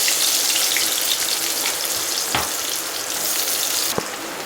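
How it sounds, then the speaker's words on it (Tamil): Garlic sautéing in hot oil, a dense, loud, steady crackling sizzle close by with a couple of brief spoon knocks, and no one talking. "பூண்டு இந்த மாதிரி போட்டு வதக்கினா நல்லா வாசனையாக இருக்கும்"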